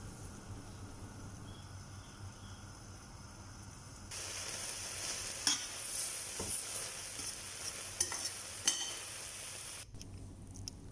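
Chicken tikka filling for crepes mixed and cooked in a hot pan, a low steady sizzle that brightens and intensifies midway, with occasional soft scraping knocks from stirring.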